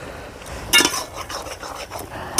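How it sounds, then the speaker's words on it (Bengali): Salt and turmeric being mixed into greens in a pan, with a clinking scrape of a utensil against the pan, one louder knock and lighter stirring scrapes after it, close up. "লবণ আর হলুদ ভালো করে আমি মিশিয়ে নিচ্ছি শাকের সঙ্গে"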